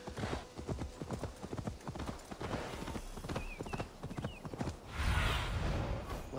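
Rhythmic hoofbeats of a horse in the video game Assassin's Creed Valhalla clop steadily at a walking pace, close by, with a brief whinny and a burst of rushing noise near the end.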